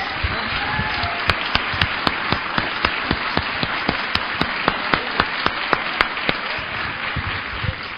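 Church congregation applauding God during a sermon, a steady crowd wash of clapping with a regular rhythmic beat of sharp, evenly spaced claps running through it.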